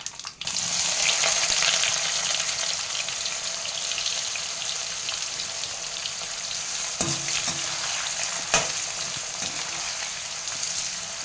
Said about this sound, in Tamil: இப்போ பூண்டும் வெங்காயமும் போடுறேன்.